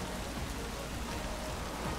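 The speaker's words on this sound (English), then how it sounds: "It wasn't raining before, was it?" Rain in a shooter video game patters as a soft, steady, dense hiss of drops on surfaces, evenly sustained and low in level, with no speech.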